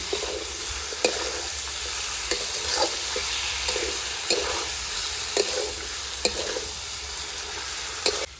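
Chicken with turmeric sautéed in a pan, a constant hiss of frying punctuated by regular scraping and knocking stirs from a spatula, close up with no voices.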